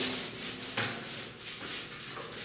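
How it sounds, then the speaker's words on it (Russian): A long-nap paint roller, about 5 mm pile, rolling a coat across a wall during travertine plaster finishing, giving soft rhythmic rubbing strokes close by, each swipe rising and fading. "берем валик и красим, как обычная сцена"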